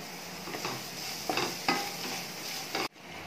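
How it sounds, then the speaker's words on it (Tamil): Raw mango pieces sauté in a pan, giving a soft, steady sizzle broken by several stirring scrapes, quiet and close, with no voices. "நல்லா மாங்காய் வந்து பச்சை வாசனை போகிற அளவுக்கு நல்லா வதக்கிக்கோங்க"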